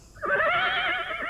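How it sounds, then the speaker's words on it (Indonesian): A horse neighs in an audio drama set on a cold, misty slope, one loud, quavering whinny that rises sharply and trails on alone. "Iya, kita harus meninggalkan kuda ini, Mei."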